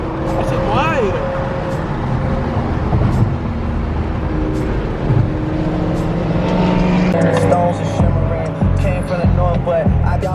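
Cars, including a BMW G80, idle, rev and drive at a BMW car meet, making a constant loud engine roar with rising revs while people talk over it.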